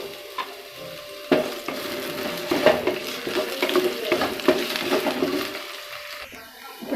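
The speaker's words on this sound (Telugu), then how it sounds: "ఇప్పుడు మనం ఆలుగడ్డ ముక్కలు వేసుకోవాలండి" Potato pieces frying in oil in a pan while being stirred, close sizzling with irregular scraping and clinking of the spatula against the pan, no talking.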